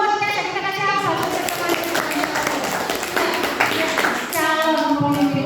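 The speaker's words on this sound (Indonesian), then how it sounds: "Wow, kita kasih aplaus." An audience at a school student-council leadership training in Sinjai applauds to welcome the next speaker, with brisk overlapping clapping, loud and close, over background music and some talk.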